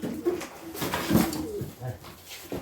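Pigeons coo at a live pigeon auction, with soft, close, repeated throaty calls overlapping in a short burst and faint background voices.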